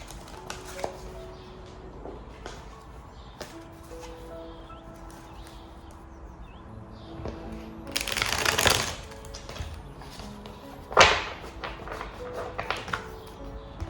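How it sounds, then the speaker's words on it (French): Tarot-style cards being shuffled for a reading: soft scattered taps and flicks, then two brief louder riffling bursts close by, with no talking. "On va reprendre les cartes et on va faire un tirage"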